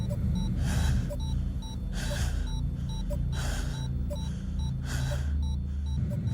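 Virgil, a character in a Xenosaga cutscene, breathes heavily while surveying a battlefield. Deep breaths come roughly once a second in a steady rhythm, close and clear, over a constant low hum and soft repeating electronic tones.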